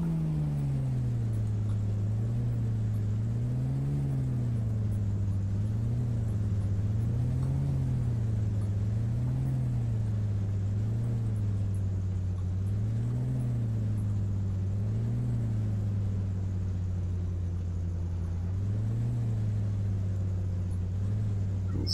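A vehicle engine in the survival game Survival: Lost Way, a steady low rumble that swells and dips in a regular wavering rhythm while driving, constant and moderately loud with no talk.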